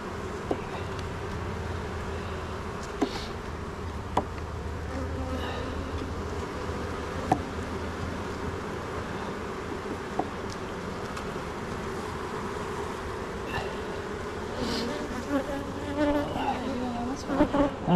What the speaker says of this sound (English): Okay, it's like there's a lot of bees.